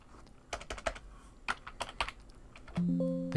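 Typing on a computer keyboard while renaming files, a quick run of about a dozen close clicking keystrokes, ending with a short electronic tone.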